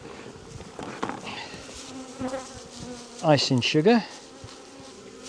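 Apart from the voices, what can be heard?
honey bees buzzing in a cup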